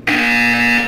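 A loud electronic buzzer from the video game Portal 2 sounds once, a steady harsh tone that starts abruptly and holds for about a second.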